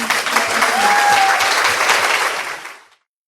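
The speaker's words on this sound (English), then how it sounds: "Let's not just clap John and his question and the answer, but let's thank Costa." A conference audience applauds after a talk on Australian native plants, a burst of steady clapping that starts full and fades out near the end.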